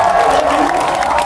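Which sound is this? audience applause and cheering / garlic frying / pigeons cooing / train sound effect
audience applause and cheering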